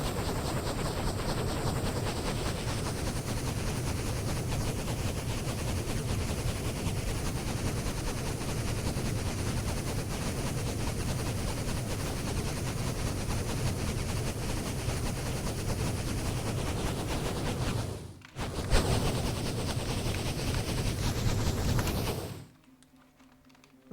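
Cannons firing fire charges at a ship in the video game Strangelands make a dense, continuous, loud rattle of rapid blasts that cuts out briefly near the end, then resumes and drops away to quiet.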